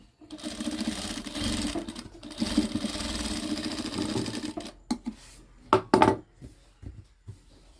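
A sewing machine stitches the gathers on a frock, running in a steady whirring burst for several seconds, then pausing and starting again in short choppy spurts with a few light clicks of the needle.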